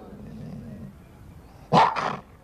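A dog growls low, then barks twice in quick succession, loud and close, in a wartime setting with soldiers around a field hospital.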